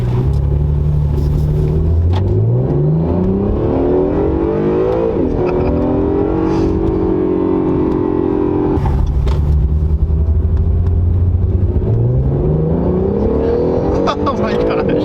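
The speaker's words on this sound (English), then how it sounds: "the acceleration is just out of this world" A 2019 Acura NSX sports car engine revs and accelerates through rising gear sweeps with a shift around the middle, a loud, close, continuous roar with deep rumble, and a voice talks over it.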